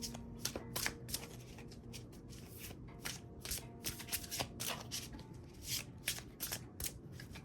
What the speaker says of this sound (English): I've noticed with these cards, if they get a little sticky, it helps to shuffle them.